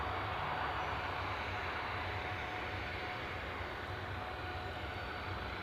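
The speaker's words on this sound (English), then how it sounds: "This Ryanair is going to Gdansk." Ryanair airliner jet engine at Newcastle airport, a distant, steady broadband roar that holds evenly throughout with no voices.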